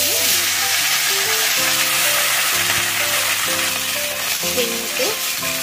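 Cut vegetables (onion, flat beans, carrot, potato, brinjal and peas) fry with salt and turmeric in leftover fish-frying oil tempered with five-spice, bay leaf and dried chilli, a loud, steady close sizzle with faint stirring scrapes throughout.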